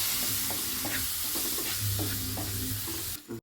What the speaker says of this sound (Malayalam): കാടമുട്ടയൊന്ന് നന്നായിട്ടൊന്ന് വഴറ്റിയെടുക്കാം.